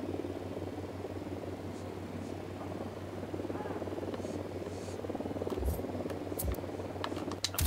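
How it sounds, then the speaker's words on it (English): An enemy helicopter approaches in the video game Ghost Recon Wildlands, its rotor giving a steady, low, continuous drone under gunfire and voices. "Hit the dirt, helicopter."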